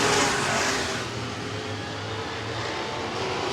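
Superior Auto Modified race cars roar around the Angola Motorsport Speedway oval during a championship night race, a steady loud blend of several engines droning together with no talk over it.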